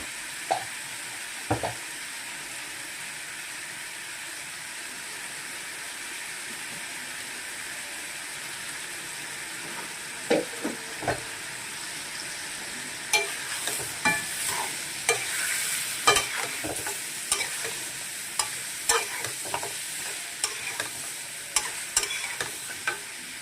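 Pre-boiled goat meat with cardamom powder frying in a pan, a steady close sizzle broken by scattered clicks and scrapes of a spoon stirring, the scraping growing busier toward the end.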